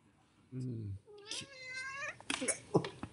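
A cat meows a few times, with a short low tone first and then longer drawn-out, wavering cries, fairly close, followed by some brief clattering noises.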